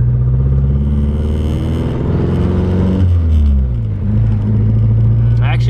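A car pulling away in first gear on a road while its owner checks a misfire and timing: a steady low engine rumble with a gear change partway through, running continuously and close up.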